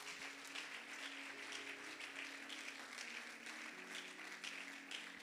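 A church congregation claps and applauds in praise of the Lord, a steady, sustained wash of many hands at moderate distance with a faint musical drone underneath.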